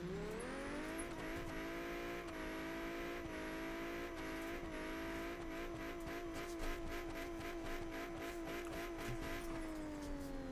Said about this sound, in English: The good old broken Mustang drifts.